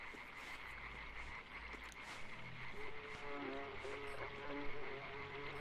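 Frogs croak in the dark forest of the video game Limbo, a dense, rapid rattling chorus under a steady low ambient rumble, faint and continuous throughout.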